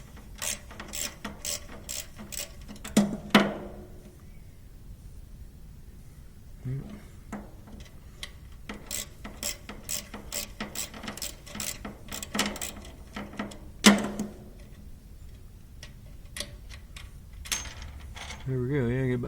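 Hand tap cutting threads in metal on a Gehl 125 grinder mixer, close repeated ratcheting clicks in uneven bursts with pauses, under occasional talk.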